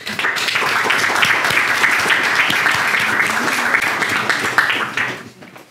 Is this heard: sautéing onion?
no